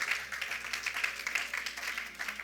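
Church congregation clapping together during a sermon, a continuous mass of hand claps at moderate loudness, somewhat distant and roomy, with no talk over it.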